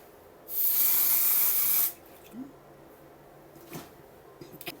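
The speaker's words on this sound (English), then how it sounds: "I spray it. Okay, all right, so I shake it up." Hairspray hisses out of an aerosol can onto a retro 1950s hairstyle in one loud, steady burst lasting over a second, followed by quiet handling sounds.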